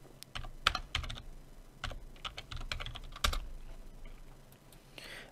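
A computer keyboard is typed on at close range, with irregular bursts of sharp keystroke clicks and short pauses between them, and no speech.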